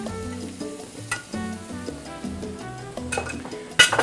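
Shredded beef and tomatoes sizzle steadily in a hot pan for ropa vieja, a continuous frying hiss with occasional stirring, under tonal background music.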